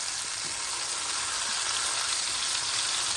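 Hamburger patties frying in a skillet give a continuous, even hiss of sizzling fat, steady and moderately quiet, with no voices.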